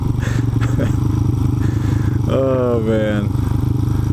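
A motorcycle engine idles smoothly and steadily at close range, a continuous low throb without pops, while someone speaks over it.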